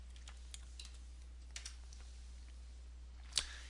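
A handful of scattered, faint keystrokes on a computer keyboard sound over a steady low electrical hum. There is no talking.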